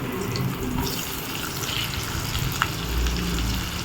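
Chopped onions fry in oil with a pinch of salt for a paneer butter masala, a soft steady sizzle with light stirring and a brief clink, fairly quiet and with no talk.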